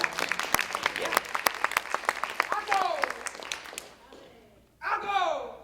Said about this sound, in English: That deserves a round of applause, huh?